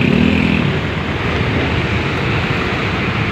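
Motorcycles turn back on a deeply flooded road, engines muddled under heavy rushing water and wind noise, loud and close throughout.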